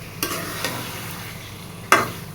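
Spicy chicken curry being sautéed and reduced in a pan, a soft steady sizzle with three sharp spatula scrapes spaced irregularly across the short stretch.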